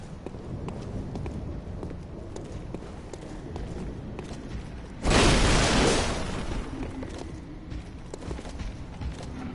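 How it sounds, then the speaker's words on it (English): Quick rhythmic footsteps patter steadily throughout, fairly close. A loud, rushing burst of noise cuts in briefly midway before the steps continue. "I hear footsteps."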